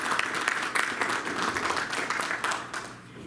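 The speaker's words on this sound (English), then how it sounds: "Let's give a round of applause to Troy." A room of men at a club meeting applauds together for about three seconds, steady dense clapping that begins to fade at the end.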